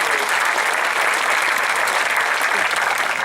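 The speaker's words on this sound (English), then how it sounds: "join me in giving them a round of applause." Steady, full applause from a large crowd at a high school graduation ceremony, dense clapping holding at an even level throughout without pause.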